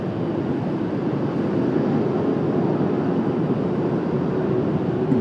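Lufthansa Airbus A340-600 airliner at Washington Dulles on a cloudy day, a steady broad jet roar heard from a distance, continuous and unchanging, with no voices.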